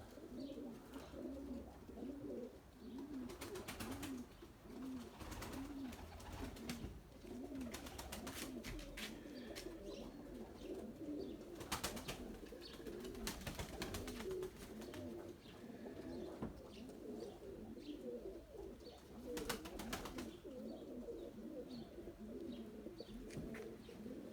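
Pigeons coo continuously in a rhythmic, throaty chorus close by, with scattered chirps and occasional wing flutters or knocks over a steady background.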